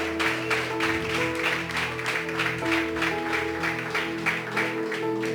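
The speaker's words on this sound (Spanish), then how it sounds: "Dígame amén y aplauda eso" Church congregation clapping through a Sunday school service, a steady dense patter that holds evenly throughout, with a sustained musical drone or keyboard tone running underneath.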